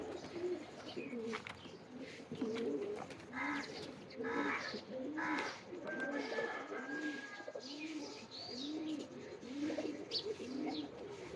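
Teddy pigeons kept for line breeding coo in a steady, repeating rhythm of low throaty calls at close range, with occasional chirps and faint background noise.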